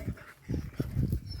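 A dog close by lets out short, low whimpering sounds in quick uneven bursts, with no talking over it.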